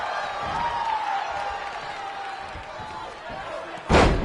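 A wrestler is slammed onto the ring in the WWE 2K20 video game, a sharp loud impact near the end following steady crowd noise and commentary.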